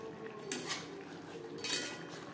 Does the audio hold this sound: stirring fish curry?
yes